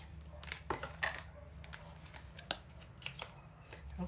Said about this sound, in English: let me just pull a few cards here for you to close out the reading